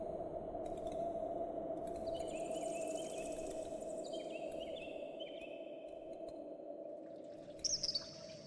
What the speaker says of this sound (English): A cheerful little bird is sitting here singing.